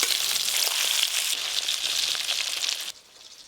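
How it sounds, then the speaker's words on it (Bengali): Coated fish belly pieces from a large pomfret sizzle loudly in hot oil, a dense steady crackle that cuts off abruptly near the end, leaving a faint residual hiss. "এই যে মাছের পেটিগুলো বেশ সুন্দর করে ভাজা হয়ে গেল"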